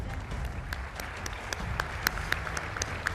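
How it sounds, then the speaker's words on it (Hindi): US lawmakers stand and applaud in the Congress chamber, a steady crowd clapping with sharper individual claps standing out, heard at a moderate distance. "ज़ेलेंस्की के स्वागत में अमेरिकी सांसदों ने खड़े होकर तालियां बजाईं।"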